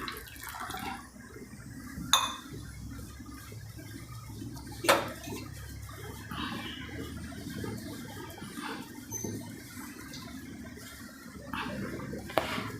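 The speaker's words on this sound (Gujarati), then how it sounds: "સહેજ પાણી નાખવાનું એક ચમચી જેટલું" A spoonful of water goes into an onion stuffing masala in a kitchen, making soft liquid trickles and splashes amid a few sharp spoon-on-dish clinks and a low background hum, no voices.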